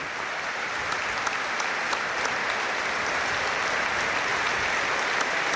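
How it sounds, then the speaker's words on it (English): A stadium crowd's sustained minute of applause before a Northern Ireland versus Luxembourg Nations League football match, dense steady clapping filling the ground from start to finish with no talk. "it's a minute's applause for Chris Nicholl and Tommy Cassidy"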